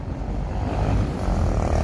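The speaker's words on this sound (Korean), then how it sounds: "지금 이제 지하철 소리 들리실 거예요." A steady low rumble with a broad hiss that swells slightly toward the end, a Gyeongui–Jungang Line subway train passing at moderate distance near Deokso Station, Namyangju.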